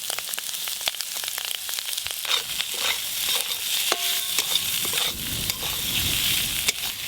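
Mushrooms and spices stir-fry in a pan, giving a steady crackling sizzle broken by repeated scraping and clinking of a spatula against the metal, close and continuous.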